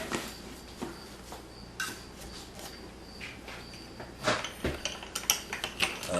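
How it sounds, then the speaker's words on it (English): A string being unwound from a left-handed 1999 Ernie Ball Music Man Stingray 5-string bass, faint metallic clicks and jingles with a few brighter plinks and scrapes, close and quiet with no talk. "Unwinding the string."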